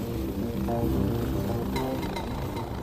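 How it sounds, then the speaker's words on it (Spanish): A helicopter's rotor and engine make a steady, loud broadband drone and buzz throughout, with a little background noise and no clear breaks. "Así funcionan los helicópteros hoy en día."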